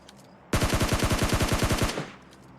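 A video game gun sprays one sustained burst of rapid automatic fire lasting about a second and a half, loud and close, with roughly a dozen evenly spaced shots, then stops abruptly.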